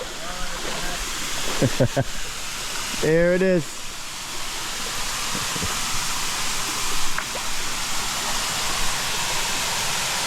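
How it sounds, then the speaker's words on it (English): A waterfall in El Nido, Palawan, gives a steady, broad rushing hiss of falling water that holds even throughout. Someone speaks briefly over it near the start. "We found the waterfall."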